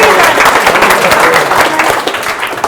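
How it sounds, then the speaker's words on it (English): An audience claps loudly for a pair of professional coaches at a talk, a dense, steady burst of applause close by that carries on throughout with a few voices mixed in. "We can clap for them"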